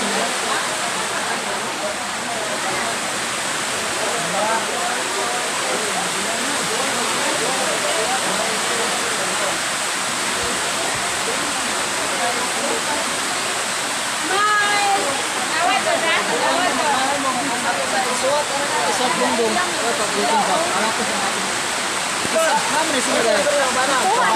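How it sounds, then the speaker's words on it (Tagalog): Rain in Santa Cruz comes on as a dense, steady hiss of falling water, loud and continuous throughout, with a few faint other sounds mixed in. "Idungog gid ang mga pag-angko nga moabot gid ang ulan."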